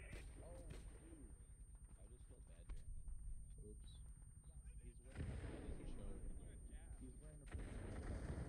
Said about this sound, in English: I think there's another mortar coming